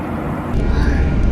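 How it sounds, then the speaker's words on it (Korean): Steady broadband engine roar inside an aircraft cabin on a flight from Busan to Shanghai, loud and constant with no distinct events. "짠 여러분 이거 비행기 안이에요 비행기 안."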